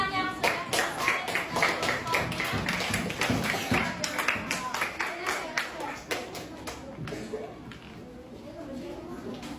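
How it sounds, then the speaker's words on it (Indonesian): A classroom of students claps for classmates who have finished, with a quick, slightly uneven run of hand claps up close that gradually thins out, and voices murmuring underneath. "Beri tepuk tangan yang sudah selesai."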